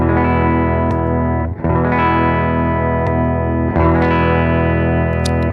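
Electric guitar played through a Belle Epoch Deluxe pedal, first bypassed and then switched on, sustained chords that ring out and are restruck about every two seconds, loud and close with no voices.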